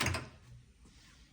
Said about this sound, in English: But the doors open incredibly good.